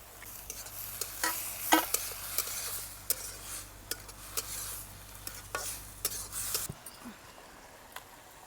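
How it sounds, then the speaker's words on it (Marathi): Soaked moong dal stir-fried in a pan makes a low sizzle under repeated scraping and clinking from a spatula on metal, stopping near the end. "आता ही भिजून घेतलेली डाळ पण टाकून घेऊ डाळ कशाची दिसरी मुगाची डाळ आहे"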